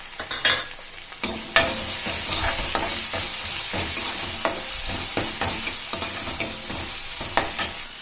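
Chopped tomatoes cooking in a hot pan for thakkali masiyal, a loud close sizzle with rhythmic spatula scrapes and knocks repeating every half second or so, with no voices.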